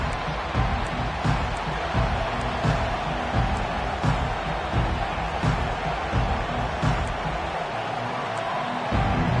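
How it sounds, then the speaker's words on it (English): Steady stadium crowd roar in a Madden football game after a kickoff touchback, a dense continuous murmur with occasional faint whoops and cheers rising from the wash. "This crowd trying to show them what it's going to be like all day in this house"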